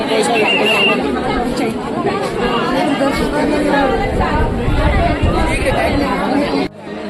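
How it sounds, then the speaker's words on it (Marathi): A dense crowd of pilgrims at Gangotri chatters loudly and continuously, many overlapping voices forming a close, steady babble that drops off abruptly at the end. "हजारो लोकांची गर्दी आहे"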